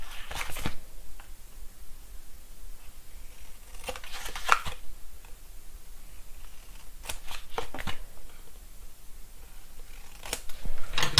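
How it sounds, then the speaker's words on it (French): Scissors cutting paper along a marked line for an accordion album: repeated short crisp snips and rustles in small clusters, close and fairly soft, over a faint steady background hiss. "Tac, je coupe au niveau de ma ligne."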